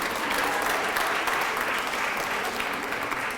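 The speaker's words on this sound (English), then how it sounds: "Give them a big round of applause." Applause at a Women's History Month award ceremony, a dense, even roar of many clapping hands that carries steadily throughout.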